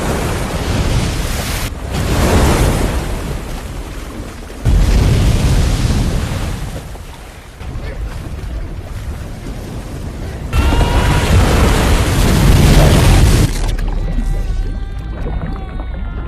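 Heavy, rough ocean waves surge and crash continuously in the film Cast Away, loud rushing water swelling and receding in powerful bursts, with no voices.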